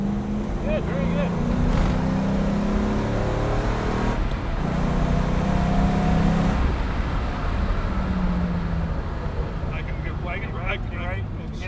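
A Ford Mustang circles Mission Raceway, its engine a steady, droning roar heard from inside the car, with an instructor and driver talking over it.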